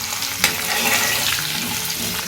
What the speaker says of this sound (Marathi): कांदा पण थोडा परतून घेऊ तेलामध्ये